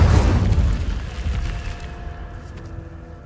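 An Incendio fire spell in Hogwarts Legacy bursts with a loud, low boom up front, then rumbles and fades away with no voices.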